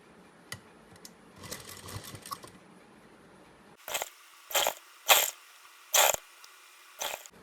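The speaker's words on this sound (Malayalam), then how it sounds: "ഇതുപോലെ കറക്റ്റ് ആയിട്ട് ലേസ് ഇതിന്റെ മുകളിലേക്ക് വെച്ചിട്ട് നമുക്കൊന്ന് സ്റ്റിച്ച് ചെയ്ത് എടുക്കാം" A sewing machine stitches lace onto a small child's crop top, running in about five short, loud bursts with brief pauses between them, after quieter fabric handling.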